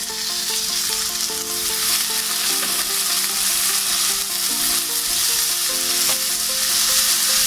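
Chopped spring onions and capsicum hiss and crackle loudly in a hot pan while cooking paneer manchurian, a dense continuous sizzle with light stirring scrapes throughout and no voices.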